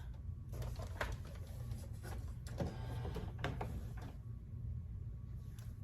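An HP Envy 6455e printer scanning a page laid face down on its glass, giving a steady mechanical whir and hum with a few soft clicks and thumps, heard close and alone.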